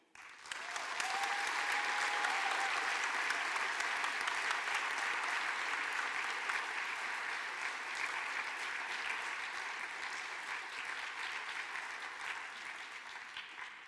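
Sustained applause from a town hall crowd, steady and dense, fading slightly toward the end.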